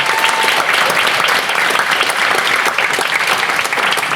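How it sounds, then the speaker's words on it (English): A loud, full round of applause from a spoken-word festival crowd cheering the performer Inzing, thick continuous clapping from many hands that holds steady from start to finish. "So let's give Inzing a round of applause."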